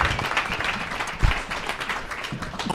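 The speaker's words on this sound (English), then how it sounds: "round of applause for our second panel" Audience applause for a second panel at a book launch on African artificial intelligence, a steady wash of many hands clapping at moderate loudness, close and continuous with no voices over it.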